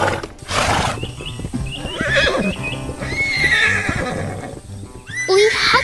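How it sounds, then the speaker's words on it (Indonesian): Playful horses out on a green field whinny and neigh repeatedly while their hooves clip-clop in quick, busy rhythm, close and lively, with several high neighs overlapping the trotting. "Lihatlah, kuda-kuda yang lucu sedang bermain di tengah lapangan hijau, berlarian dengan ceria"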